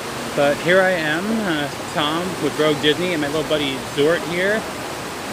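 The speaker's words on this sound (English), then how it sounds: "Hopefully the microphone will make it over the waterfall behind me." A waterfall roars as a steady, broad wash of falling water behind someone talking close up, outside the Gordon Ramsay Fish and Chips restaurant in Orlando.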